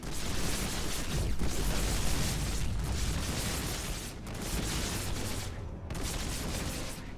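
Rapid weapon fire from StarCraft II units, including lurkers, in a dense, continuous barrage of booming shots and explosions that rolls on for the whole stretch.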